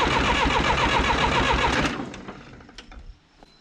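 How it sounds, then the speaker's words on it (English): A John Deere 450B dozer engine cranks over with the fuel solenoid shut off, a loud, rapid, rhythmic churning for about two seconds, then the starter stops and the sound fades to faint clicks. "first I'm going to crank this with no fuel, with the fuel solenoid turned off, and we're going to listen and see if we hear that gallop"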